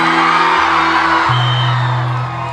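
A crowd at a college concert in Kaliabar yelling and whooping together in a sustained, loud, dense roar that shifts pitch midway and fades slightly at the end.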